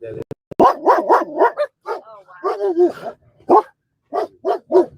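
Several dogs bark in quick, loud bursts close by, with yips and whimpers between the barks and a pause partway through.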